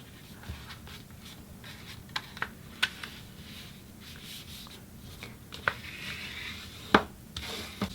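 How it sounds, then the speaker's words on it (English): Origami paper being creased and folded by hand while making an envelope: soft rustling and scraping with scattered sharp crinkly clicks, close and fairly quiet, with no talking. "And then next you want to take the entire thing and fold it over."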